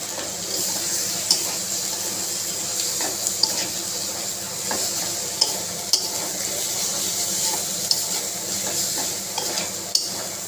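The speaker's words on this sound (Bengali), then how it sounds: "আলুটা দিয়ে একটু কষিয়ে নেব" Potatoes being sautéed with cumin in a pan for a spicy katla fish curry, a steady soft sizzle with spatula scrapes and clinks at irregular intervals, no voices.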